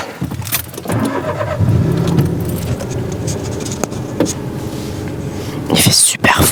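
Keys jangle inside a parked car on a cold day, close and bright at the start and again near the end, over a low interior hum with faint whispered speech.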